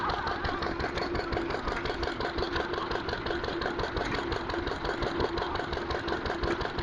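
A vintage Lister stationary engine at a rally drives a generator, chugging in a fast, even rhythm with steady mechanical knocking, loud and close throughout.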